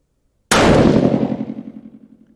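A single loud sniper rifle shot fired at a playing card target on a long-range shooting challenge, a sharp sudden crack followed by a long rolling, pulsing echo that slowly fades.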